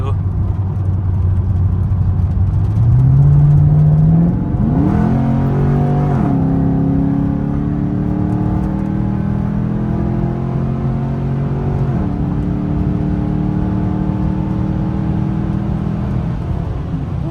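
A Chevrolet Camaro SS accelerates hard in sport mode, its engine note climbing steeply through rising revs with a deep rumble and gear changes, heard from inside the car with a voice talking over it.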